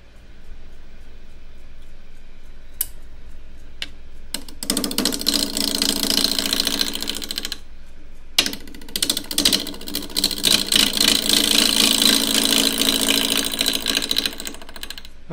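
Wood lathe spinning a square dish blank while a half-inch spindle gouge cuts the corners, giving a steady broadband hiss and rattle in bursts with brief pauses between cuts.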